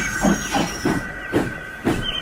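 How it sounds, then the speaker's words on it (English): A steam locomotive gives off a series of five rhythmic hissing puffs of steam over a steady whistle-like tone, close and fairly loud, with no talking. "Gordon backed down on his train, hissing mournfully."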